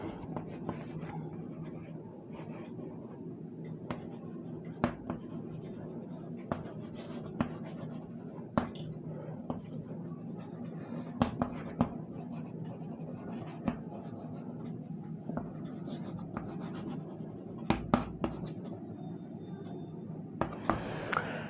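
A teacher writes a sentence on a classroom board during an English grammar lesson, producing continuous scratchy strokes punctuated by sharp taps, close and moderately loud for about twenty seconds without clear talk.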